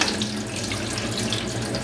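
Water poured off soaked potatoes in a kitchen while preparing potato chapli kebabs, a steady, close splashing stream with no talk.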